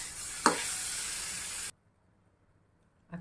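Mango pulp filling for mango shira, stirred and steamed in a pan with dissolved sugar, gives a steady soft sizzle and hiss for over a second with one sharp scrape, then cuts to near silence before a faint clatter.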